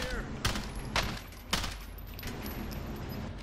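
Gunfire in the video game Warzone during a duos match, a few sharp bursts of shots with a steady rumbling background between them and no speech.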